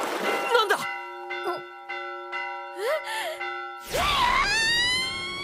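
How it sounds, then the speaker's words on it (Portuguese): A bell in an anime rings out with sustained resonant tones that fade between strikes, then a loud voiced cry cuts across the ringing near the end. "E do nada, um sino toca e o Sato levanta assustado"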